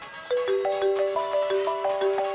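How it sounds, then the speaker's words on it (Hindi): A mobile phone rings with a bright electronic melody, its stepped tones repeating in a steady pattern, loud and close with no voices over it. "तभी अचानक ही आहान का मोबाइल बज उठा।"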